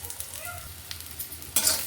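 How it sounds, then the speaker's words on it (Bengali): Small, lightly salted eggplant pieces fry in a pan with a steady, soft sizzle and occasional stirring scrapes, growing briefly louder toward the end. "একটু ঢাকা দিয়ে দিচ্ছি, তাহলে তাড়াতাড়ি বেগুনটা ভাজা হয়ে যাবে"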